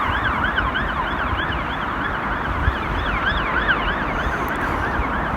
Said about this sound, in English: Lovely police siren. I think it's an ambulance actually, I just saw it go by.